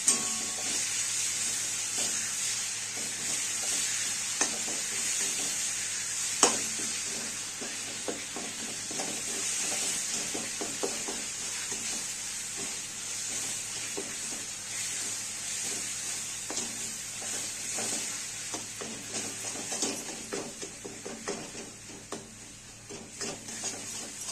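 Khoa filling for khava poli with sugar, stirred constantly in a pan over medium heat, gives a steady close sizzle and hiss with soft scraping strokes throughout, no talking.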